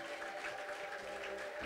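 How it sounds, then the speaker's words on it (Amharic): Congregation applauding at a church service, a steady wash of clapping held at an even level throughout, fairly close and continuous with no talk over it. "እስቲ አጨብጭቡ ለጌታ ክብር"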